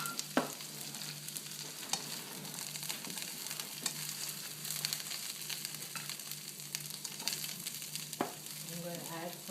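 Cauliflower sizzles in a pan on medium-high heat, a steady close frying hiss broken by occasional scrapes and stirring clinks.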